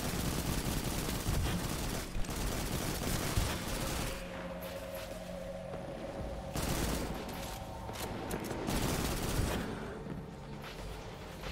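Rapid gunfire in Destiny 2, dense bursts of shots crackling in quick succession with brief lulls between volleys, loud and close.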